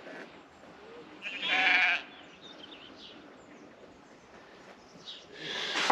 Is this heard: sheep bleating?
yes